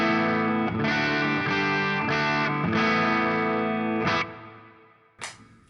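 Electric guitar played through a York Audio 4x12 cabinet simulation with plate reverb, bypass signal with no pedal engaged: a few loud, sustained chords struck in a steady rhythm, then a pause and one final strum ringing out.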